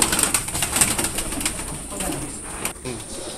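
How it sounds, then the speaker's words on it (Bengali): Pigeons coo in a loft with wings flapping and birds scuffling nearby, the soft calls repeating under a rustling background. "আমি নর কবুতরটি ধরলাম,"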